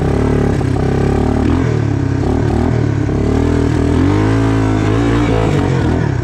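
A 1986 Suzuki Quadrunner LT250EF ATV climbs a hill in crawl gear, its engine droning steadily with low, slowly shifting pitch, loud and close throughout.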